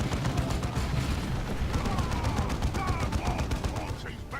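Space marine scouts firing shotguns amid a wider battle in Warhammer 40,000: Dawn of War II, dense continuous gunfire and booms layered over game voices and effects.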